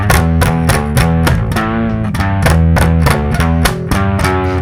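Distorted electric bass hammered hard with the fingers for an aggressive early metal tone, loud and close, with steady repeated notes and no talking.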